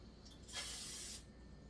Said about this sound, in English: we also need to spray these pans